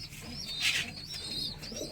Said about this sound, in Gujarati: ઘણા કબૂતરે ઈંડા પણ મૂકેલા છે બચ્ચાનો પણ અવાજ આવે છે